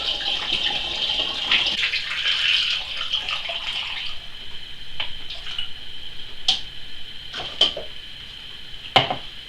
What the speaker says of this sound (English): Now we can add our sugar to it and then top it up with water.